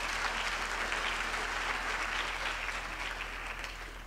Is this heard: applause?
yes